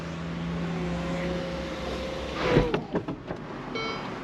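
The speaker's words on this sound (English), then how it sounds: "What we're going to do is actually take the roof off." Retractable hard-top roof on a Ferrari Portofino M opening, a steady electric motor whir with faint tonal hums, then a cluster of mechanical clunks and latching knocks as the panels stow.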